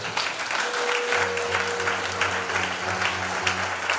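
A church congregation applauding to acclaim the Lord, sustained dense clapping from a crowd throughout, with a low sustained hum or organ-like tone underneath.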